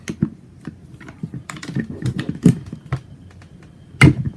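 An LMT MARS CQB16 rifle part gives a series of small sharp plastic-and-metal clicks and taps as it is rotated by hand, irregular and close, with no talking.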